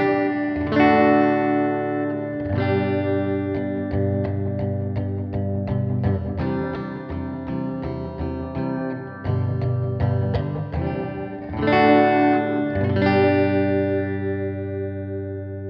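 Electric guitar through an OX Stomp amp simulator on a room-sound setting, playing chords and picked notes with a roomy, reverberant tone, steady and fairly loud, with short pauses between phrases and no talking.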